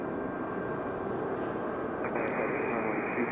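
An American Airlines Boeing 737-800 arriving from Miami drones steadily at a distance, a broad rushing engine roar with a thin whine that shifts partway through, heard alone without voices.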